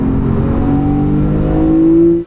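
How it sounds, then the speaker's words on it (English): Porsche 911 engine close up, a steady loud drone whose pitch climbs sharply near the end as the automatic throttle blip rev-matches a downshift. "Listen to this downshift,"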